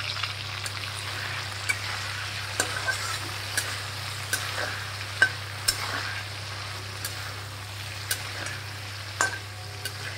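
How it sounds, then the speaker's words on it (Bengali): Prawns frying in a pan give a steady, even sizzle, with sharp clicks and taps of stirring scattered through it. No one speaks. "এবার একটু চিংড়ি মাছটাকে ভেজে নেব।"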